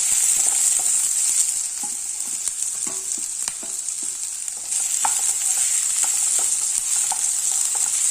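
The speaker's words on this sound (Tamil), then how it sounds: "நல்லா வதங்கட்டும்." Capsicum and potato sautéing in a pan for capsicum rice: a loud, bright, continuous sizzle with intermittent clinks and scrapes from stirring, close up and free of talk.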